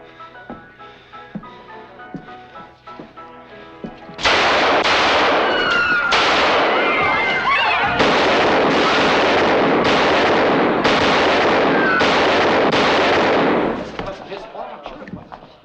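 Gunfight in a 1955 western film: after quieter movement and faint sounds, a rapid burst of loud, closely spaced gunshots runs for about ten seconds before fading back to quieter noise.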